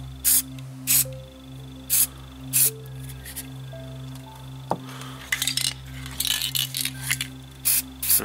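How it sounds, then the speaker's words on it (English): A spray paint can sprays wargame terrain fences in short, bursty hisses, several separate blasts spaced apart and then a quicker cluster of spurts, close and fairly loud over a low background hum. "And it's very hard spraying with the left hand when you're not used to it."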